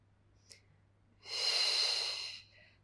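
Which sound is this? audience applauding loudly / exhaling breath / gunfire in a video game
exhaling breath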